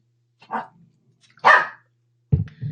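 A dog barks three times close by, short separate woofs with quiet gaps between them.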